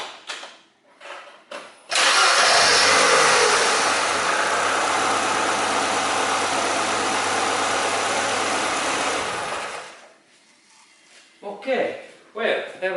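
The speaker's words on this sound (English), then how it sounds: "final check always is to check that how this engine starts, and then I go to start that engine." A Ford Zetec engine cranks and catches, then runs at a steady idle for about eight seconds before shutting off, followed by clicks and handling noises nearby.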